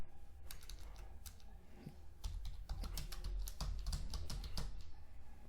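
Quick, uneven keystrokes on a computer keyboard, tapping close and clear in short bursts that pick up pace toward the end over a quiet room, with no talk.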